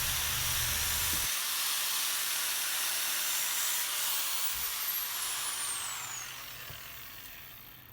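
A spinning cloth disc sharpens a knife blade, giving a loud, continuous high hiss and whir that holds steady and then slowly fades toward the end, with no voices.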